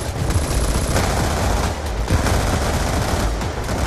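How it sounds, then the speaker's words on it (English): Sustained gunfire from the video game Call of Duty: Black Ops 2, dense bursts of shots crackling continuously and loudly with no pauses, close and booming throughout. "I'll shoot you through a wall, man."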